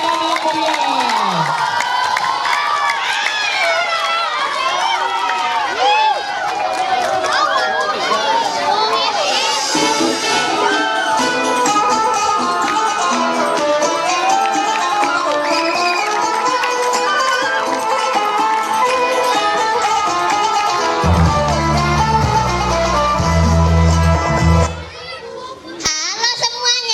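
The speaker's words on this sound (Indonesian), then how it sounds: "Beri tepuk tangan yang meriah" A Ramadan talk show audience, many of them children, cheers and shouts loudly in a sustained swell of excited voices, with a few claps near the end.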